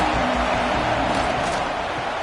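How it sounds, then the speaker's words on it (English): A stadium crowd at a football game roars in a steady, broad wash of cheering noise, loud and continuous throughout, with a faint voice underneath. "Big 3rd down as the crowd gets behind this defense."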